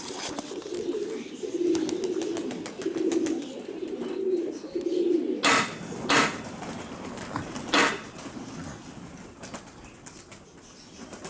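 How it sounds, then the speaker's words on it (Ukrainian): Pigeons coo in low, rolling murmurs for several seconds, then wings flap and clatter in sharp bursts as the birds take off nearby, chased by a dog. "що роблять голуби"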